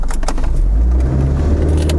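A Hyundai Accent 1.3 automatic running on LPG pulls away in first gear, its engine droning loud and steady with the pitch rising as it accelerates, heard from inside the car with small rattles and clicks.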